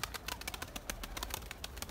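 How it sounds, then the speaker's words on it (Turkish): Pigeons, probably a male among them, around a rooftop pigeon flock, giving a close burst of sharp flapping wing claps and scuffling as they come in to land, with faint cooing and no speech. "büyük ihtimalle e, ee, erkek bir güvercine benziyor"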